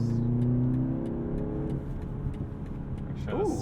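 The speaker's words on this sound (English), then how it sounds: "did I hear some pops and burbles there?" A 2022 BMW 330i accelerates hard, its engine note rising steadily before easing off into crackling exhaust pops and burbles near the end, close and loud inside the cabin.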